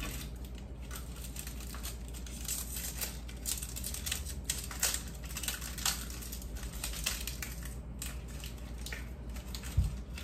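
A kitchen knife chops an onion for mirepoix while a lamb braise is being prepared, making a close, steady run of quick crisp cuts against a board with no voice over it.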